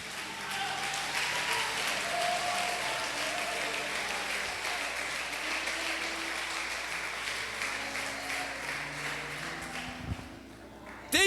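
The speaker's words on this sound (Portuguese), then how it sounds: "eu te convido a pôr a mão lá em cima e aplaudir porque Ele está aqui" A church congregation, hands raised, breaks into sustained applause that stays dense and even for several seconds before tapering off at the end, with voices mixed into the clapping.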